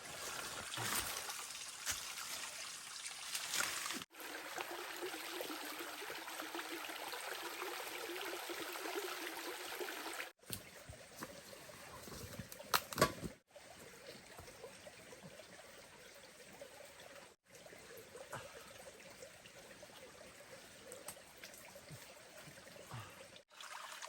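A forest stream trickles and flows steadily over rocks, a continuous close watery rush with some shifts in loudness and brief cuts, no clear voices.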